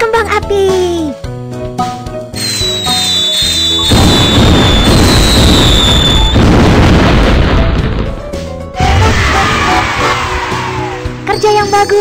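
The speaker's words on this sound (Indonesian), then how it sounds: "Kembang api." Sound effects from the children's game Baby Bus play loudly: booming bursts and crackling pops of fireworks, with whistling tones and short musical jingles between them.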